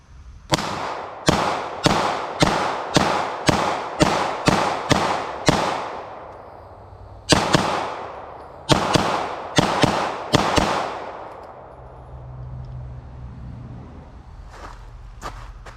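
A CZ 75 SP-01 Shadow pistol fires a full magazine outdoors, about sixteen sharp, loud reports in a quick rhythmic string, a short pause, then a second burst, followed by faint ambient rumble.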